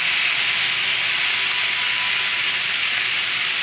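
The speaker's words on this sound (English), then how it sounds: "Now the onions will get sauteed since they have a little grease to work with." Onions sautéing in rendered lamb fat for a rack of lamb, giving a loud, steady broadband sizzle that holds without a break throughout, no talking.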